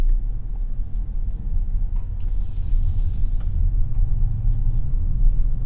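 A 2021 Mazda CX-5 with the 2.5-liter turbo and AWD cruises along, its steady low road rumble and tire hiss holding a constant level throughout with no voices.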